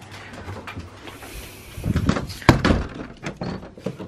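Front door of a student house being handled while letters are collected, with a few thuds and knocks building to one sharp clunk near the middle, followed by softer rattling bumps close by.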